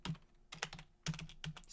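Keys on a computer keyboard are struck in quick, irregular bursts, each a sharp close click, with short pauses between clusters of typing and no voices.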